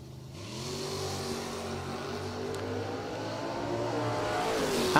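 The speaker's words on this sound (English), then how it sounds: "And Trish Witt hard charges her way into round number 5" A 1967 Camaro drag racing car accelerates hard down the strip at a Labor Day drag racing event, its engine note climbing steadily and loudly through a continuous rev with no pause.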